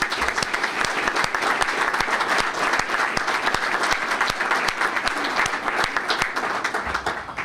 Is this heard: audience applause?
yes